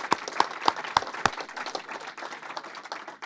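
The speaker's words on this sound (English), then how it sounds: "You can applaud." A small crowd at a congressional campaign announcement applauds. A few sharp, distinct claps stand out near the start before the clapping thins into a lighter, steady patter of many hands, fairly close.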